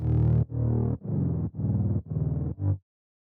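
Distorted synth bass notes from a Martin Garrix style drop bend downward by an octave, six punchy hits in steady rhythm, the last one shorter, then silence.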